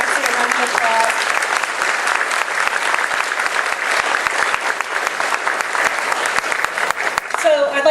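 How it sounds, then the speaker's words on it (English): Audience applause fills a growers' association meeting room, steady and fairly loud throughout, with a few voices surfacing briefly at the start and near the end. "So everybody give Lexi a round of applause."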